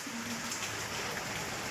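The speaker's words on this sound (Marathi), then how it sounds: "पण पाऊस झालाय बाहेर चालू, झिमझिम." Light drizzling rain falls outside as a soft, steady hiss, faint and even throughout with no voices.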